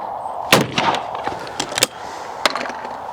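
A Browning shotgun fires at clay targets, giving several sharp, loud reports at irregular intervals: two close together early, then further shots, each a sudden broadband crack with a short tail.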